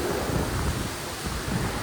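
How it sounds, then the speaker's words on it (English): A strong hurricane wind gust from Hurricane Milton in Bradenton, Florida roars steadily and loudly, a dense broadband rush buffeting the microphone with low rumbling surges throughout, no voices. "here comes a big gust"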